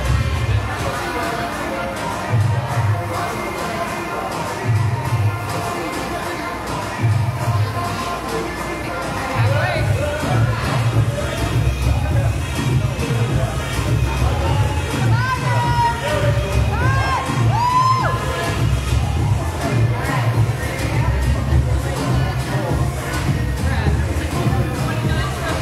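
Spectators cheer and shout at a CrossFit Deka Mile event, with steady crowd noise and scattered whoops throughout, and a voice talks nearby over the din.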